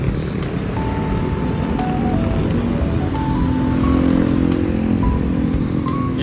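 Motor vehicles rush past on a service road near DOST and SM Bicutan, heard from a bicycle: continuous loud traffic roar with engine tones rising and falling as motorcycles speed by nearby.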